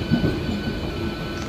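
A train rumbles steadily as it nears Howrah railway station, a close, continuous rolling of carriages with no voices.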